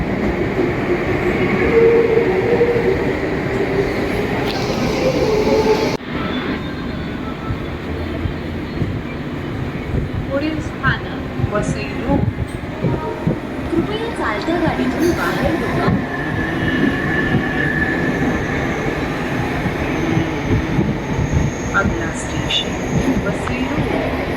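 Steady rumble and rattle of a moving, fully packed Churchgate commuter train from inside a carriage, with a murmur of many passengers and occasional clacks from the wheels.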